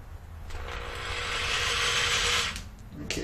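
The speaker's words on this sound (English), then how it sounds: "if I drill here, like so, all should be well." A power drill bores into a PVC bow riser in a home workshop. A rising whirring grind builds over about two seconds, loud and close, and then cuts off, with faint handling sounds around it.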